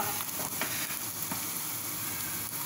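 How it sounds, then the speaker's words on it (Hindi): Steady, loud sizzling of hot ghee tempering dal crackles continuously up close, a dense frying hiss with small pops throughout and no voices. "ये घी असली घी का तड़का"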